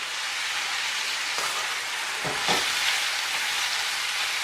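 Curry powder, roasted ground cumin and anchar masala fry in a large pot with a continuous hiss, broken by a couple of brief stirring scrapes midway.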